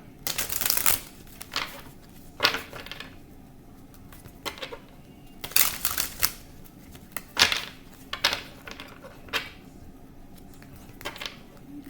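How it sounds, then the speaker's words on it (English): Cards riffle and rustle in several quick crisp bursts, with soft handling noises between them, close to the microphone. "I'm going to shuffle."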